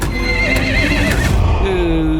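A horse whinnies loudly and close in a dramatic scene, a long wavering neigh with hoof clatter beneath, ending in a rising tonal note.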